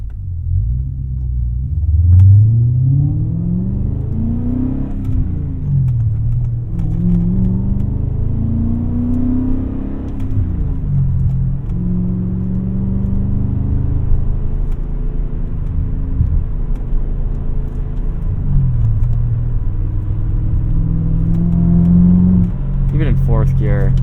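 A 2001 E39 BMW M5 sedan's engine pulls hard while driving, its deep rumble climbing in pitch through repeated revving sweeps and gear changes, loud and close from inside the car, with someone speaking over it.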